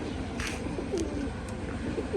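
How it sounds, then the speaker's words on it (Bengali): Pigeons outdoors cooing softly, a few low throaty coos over steady background noise, fairly faint and without talk. "দেখুন এদিক বাইরে কিছু পায়রা খাওয়া দাওয়া করছে।"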